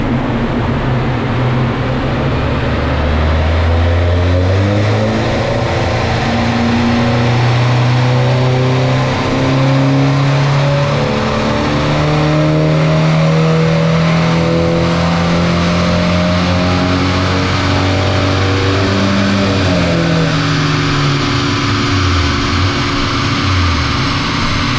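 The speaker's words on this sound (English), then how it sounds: "give it another run on the dyno and see what those changes have made" Tuned Audi engine on a dyno with extra wastegate boost, revving loudly and continuously through long sweeping pulls that rise, drop and climb again, close and unbroken with no talking.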